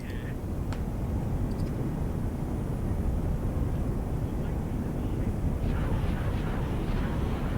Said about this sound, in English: Now it's firing its turbo lasers.